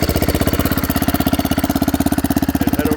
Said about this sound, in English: we're going to start this baby up